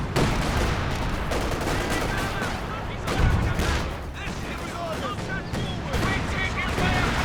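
Continuous gunfire and flak bursts from a Company of Heroes 2 battle involving a Flak Panther and AT guns, dense overlapping shots and booms filling the whole stretch at steady loudness with a possible voice underneath.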